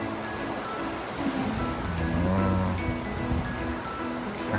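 Sea waves wash in at Pattaya beach in Thailand, a soft continuous surf with gentle swells, heard alone at moderate distance.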